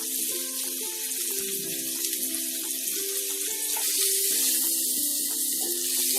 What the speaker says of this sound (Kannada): ನೀರುಳ್ಳಿ ಫ್ರೈ ಆಗೊಂಡು ಬರ್ತದೆ